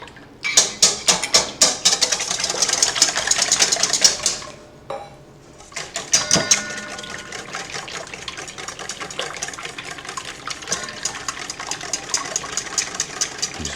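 A whisk clinks rapidly against a bowl while eggs and cream are beaten together for a bread pudding custard, a busy metallic rattle that briefly pauses and then resumes at a steady pace, close up and with no talking.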